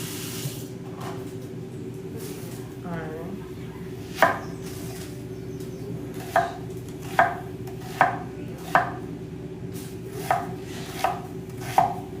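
Onions are chopped with a knife on a cutting board in a home kitchen while preparing meals, producing a steady series of sharp, close knocks roughly once a second over a constant background hum.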